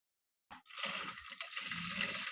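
A sewing machine starts up after a moment of silence and runs in a rapid, steady mechanical clatter while stitching a princess cut blouse.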